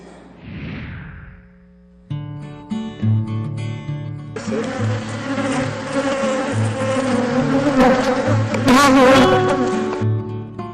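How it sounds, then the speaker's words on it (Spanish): Bees buzzing loudly in an apiary in Sinanché, Yucatán, a dense close hum that swells and thickens after a short quiet start and holds to the end. "mostrar a las personas el impresionante mundo de las abejas"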